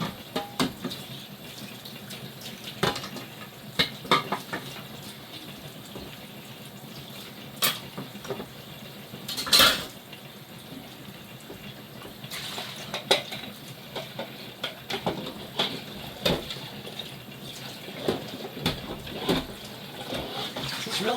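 Water runs from a kitchen sink tap for a long stretch while something is rinsed under it, with intermittent splashes, clinks of utensils and louder gushes as the stream is moved around; no one talks.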